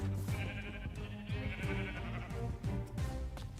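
Sheep in a video game bleat repeatedly and loudly, several overlapping calls one after another over busy game audio, with no talk.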